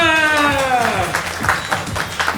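Audience at a drama company stage performance breaking into applause, the clapping building after a sustained tonal voice-like sound fades, then continuing in loud, uneven bursts.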